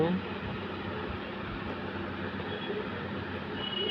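A train rumbles steadily with a broad low roar and rising clatter, growing slightly louder over a few seconds, with faint talk beneath.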